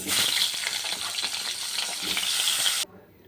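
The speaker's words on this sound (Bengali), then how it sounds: "এবার আলুটা ভেজে নেব" Potato pieces fry in hot oil in a pan, a loud, steady crackling sizzle with small pops that cuts off abruptly near the end.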